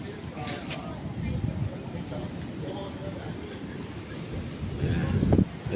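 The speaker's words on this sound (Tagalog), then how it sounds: "Ayan po, medyo malakas po ang hangin ngayon." Strong wind roars steadily with gusting rushes, mixed with surf-like noise and a louder blast near the end.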